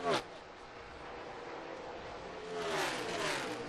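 NASCAR race cars roar along a track, a distant engine drone that swells as cars pass, with a sharper passing whine at the start and rising again near the end.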